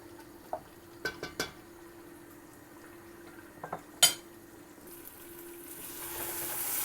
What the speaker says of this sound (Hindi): इनको अब हम भून लेंगे, पानी सारा खुश्क कर लेंगे।